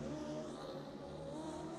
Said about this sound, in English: And a big booming V-twin there